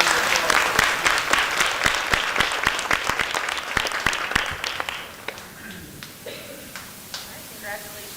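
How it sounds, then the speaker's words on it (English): People at a school board of education meeting clap for a student, a fairly close round of applause with distinct individual claps that fades out after about five seconds, leaving quiet room noise and a few stray sounds. "give this young lady another round of applause"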